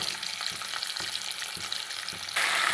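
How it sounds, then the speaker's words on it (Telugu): Pieces of bitter gourd frying in oil in a pan, giving a steady close sizzle with soft stirring knocks at regular intervals, and the hiss grows louder near the end. "ఇప్పుడు బాండీ పెట్టేసుకొని దీనిలో కొంచెం ఆయిల్ వేసుకుంటున్నానండి ఈ ఆయిల్లోకి ముక్కల్ని యాడ్ చేసేసుకుంటున్నాను"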